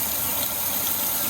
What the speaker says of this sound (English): So it's like if I try to get a small flow of water,